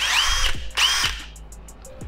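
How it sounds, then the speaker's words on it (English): A power drill fitted with a small screwdriver bit is used to strip old fishing line off a reel. It whirs in two close, loud bursts, each winding down, followed by a quieter rattling tail. "we're gonna try putting this little screwdriver here in my drill"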